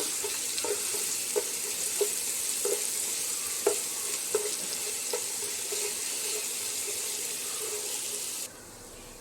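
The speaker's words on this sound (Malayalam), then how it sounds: "ഇതിലേക്ക് ചതച്ച് വച്ചിരിക്കുന്ന ഇഞ്ചി പച്ചമുളക് വെളുത്തുള്ളി ഇട്ട് കൊടുക്കാം എന്നിട്ട് ഇതൊന്ന് വഴറ്റി കൊടുക്കാം" Crushed ginger, green chili and garlic sauté in a hot pan with a steady broadband sizzle, while a spoon scrapes and stirs in irregular soft strokes. The sizzle cuts off near the end, and nobody speaks.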